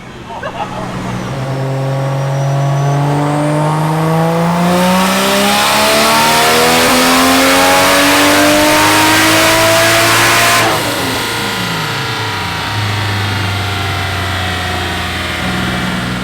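A Toyota JZX100 engine revs hard during clutch kicks, loud and close, with its pitch climbing steadily through sustained acceleration before dropping off and settling into a lower drone.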